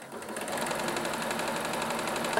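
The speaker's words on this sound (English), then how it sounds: "making sure there's no fabric bunching up underneath while you're sewing." A sewing machine stitches a seam on a peplum cardigan, its steady rapid whirring hum running without pause for the whole stretch at a close, even level, with no talking.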